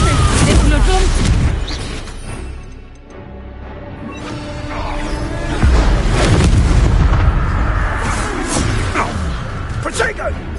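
A Confringo blast spell explodes in the Hogwarts video game, with loud rumbling booms and bursts near the start and again later, mixed with game voices shouting over the action.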